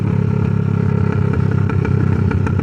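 Exhaust of a 2018 Kawasaki Ninja 650 motorcycle, a steady loud mid-pitched engine drone with rapid irregular crackles and pops scattered throughout, close and continuous with no talk.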